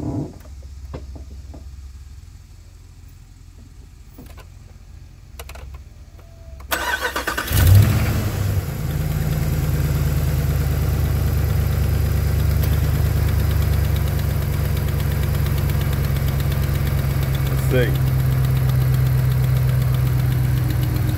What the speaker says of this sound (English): you can hear that exhaust manifold leak, though. That thing sounds terrible.